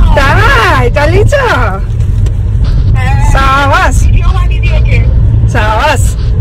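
A car on a long drive hums with a steady low road and engine rumble, heard from inside under loud, close conversation.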